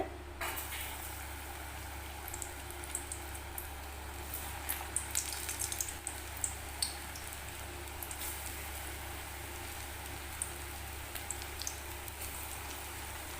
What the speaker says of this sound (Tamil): இப்போ வந்து எண்ணெய் காஞ்சிருச்சு போட்டுக்கலாம் சின்ன சின்னதாக போட்டுக்கோங்க